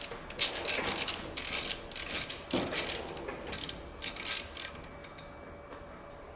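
A wrench with an extension ratchets in quick, steady clicks while removing a bolt on the exhaust of a 2018 or later Harley-Davidson Softail with a Milwaukee-Eight engine. The clicks are close and run throughout.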